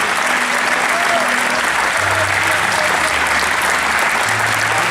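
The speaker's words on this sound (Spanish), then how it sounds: "Una ofrenda de palmas fuerte al Señor." Steady, loud applause from a church congregation during an anniversary service fills the whole stretch, with a few faint tones and voices buried beneath the clapping.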